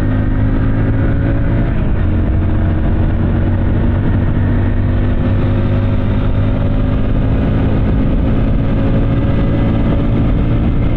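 A Hero Splendor Plus Xtec BS6 2022 motorcycle engine pulls steadily under acceleration, a loud, close, continuous drone with a rising tone and constant wind rush, no talking.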